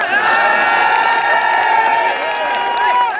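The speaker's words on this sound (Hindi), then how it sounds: "आपने ताली बजा दी" A large crowd at a political rally held at a bus stand claps and cheers loudly and steadily, with a few whistles and shouts rising above the dense applause.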